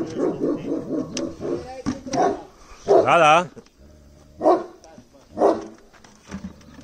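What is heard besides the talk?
small dog barking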